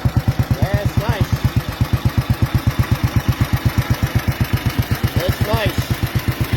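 1938 BMW F-head motorcycle engine, with flathead intake and overhead exhaust valves, running close by in a strong, even pulsing beat, with short bursts of voices talking over it.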